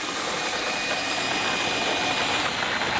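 A Freewing JAS-39 Gripen RC jet model's ducted-fan engine runs up close at a steady, loud roaring whine with a thin high-pitched tonal edge, continuous throughout and without voices.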